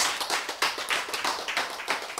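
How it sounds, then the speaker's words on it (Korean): Clapping from an audience during a lecture on God's promise, a crisp, close patter of many hands with distinct individual claps and uneven pulses, and no voices over it. "얼마나 좋아. 박수."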